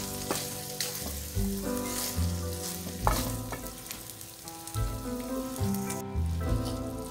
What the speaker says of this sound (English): we're going to go ahead and let that cook up for a few minutes